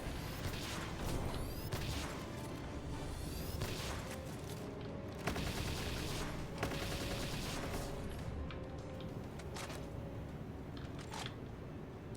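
Video game gunfire on an oil rig: bursts of sharp shots and rapid volleys ring out over a dense, busy background of game noise, moderately quiet overall, with a few louder cracks scattered through.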